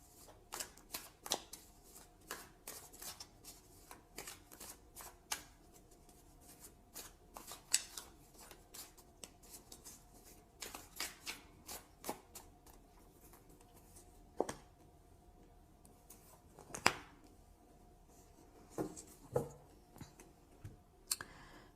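Soft, close tarot card handling: a steady series of quick papery flicks and riffles as the deck is shuffled, with a few sharper snaps as cards are drawn and laid down, otherwise quiet.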